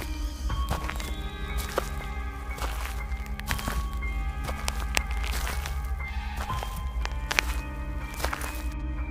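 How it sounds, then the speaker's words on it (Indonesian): Footstep sound effects for a horror story narration: a steady series of dull thuds and knocks over continuous low droning ambience, moderately loud and unhurried throughout. "Mendengar suara langkah kaki."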